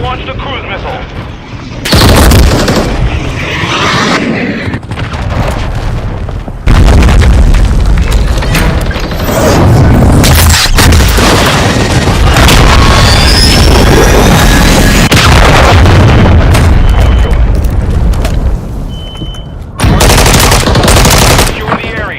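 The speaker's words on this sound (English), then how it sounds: "Hostiles launched a cruise missile." Cruise missile strikes and heavy gunfire in a military video game, with loud, sustained booming blasts and rattling automatic fire filling the mix and a voice heard over the din.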